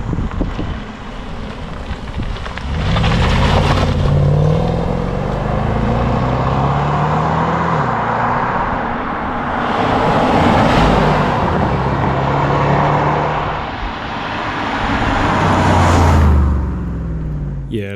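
A loud 500bhp Jaguar XFR engine revs up and down in three long swells, the straight-piped exhaust roaring and rasping from close by, heard outside the car.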